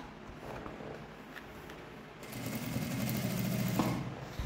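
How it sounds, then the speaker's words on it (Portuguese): A sewing machine with a white Teflon presser foot topstitches synthetic leather for a handbag, starting up after a quiet moment and running in a close, steady, rapid whir. "quando a gente vai costurar por cima do sintético, a gente precisa usar esse calcador branquinho de teflon"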